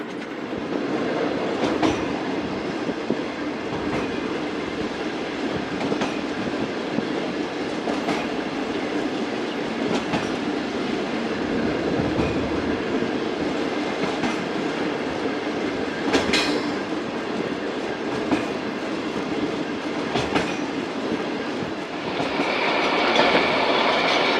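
Musapak Shuttle passenger train running from Multan to Dera Ghazi Khan, heard from inside as a steady loud rumble with rhythmic clickety-clack of wheels over rail joints and occasional squeals, continuous without talk.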